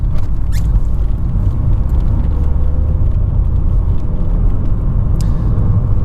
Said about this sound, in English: So, we're just driving like a normal car.